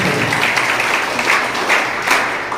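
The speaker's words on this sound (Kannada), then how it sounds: "ನೀವೆಲ್ಲ ಗಟ್ಟಿ ಚಪ್ಪಾಳೆ ತಟ್ಟುವ ಮೂಲಕ" Steady applause from an audience at a college farewell and annual day function for second-year PUC students, a dense wash of many hands clapping at once that holds at an even, fairly loud level throughout with no speech over it.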